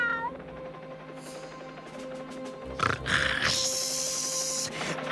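Cartoon cat meows in short cries over a layer of animated-show background sound, close and fairly clear, with a louder rising burst toward the end.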